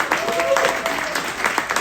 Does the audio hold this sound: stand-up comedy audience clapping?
yes